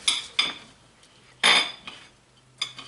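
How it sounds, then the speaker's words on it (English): A knife spreads butter on freshly baked yeast-risen barley bread, giving a few short scraping strokes with light clinks, close and separated by quiet pauses. "Now let me put some butter on it"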